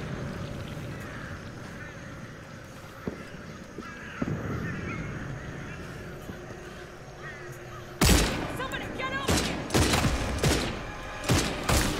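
Burst of video game gunfire breaks out after a quieter stretch of background sound, with several loud, sharp shots and short volleys, close and dominant.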